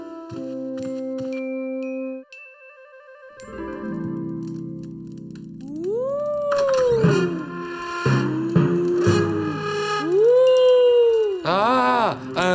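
A cartoon character imitates a wolf howl in a children's animated episode: a short series of rising, wavering howls with harmonic tones, loud and close, following a moment of quiet music, with no spoken words.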